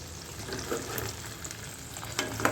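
Turnips frying over high heat, a dense continuous sizzle with faint scrapes and small clicks from stirring, nearby and fairly quiet.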